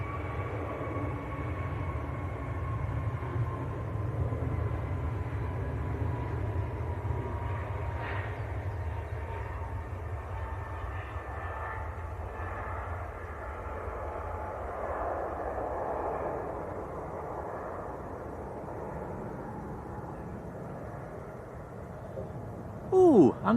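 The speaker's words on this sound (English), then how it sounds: "EasyJet to Tenerife South, A321 Neo." EasyJet Airbus A321neo jet at Manchester Airport heading to Tenerife South, a steady distant engine roar and rumble sustained throughout, with a faint whine, moderately loud and continuous.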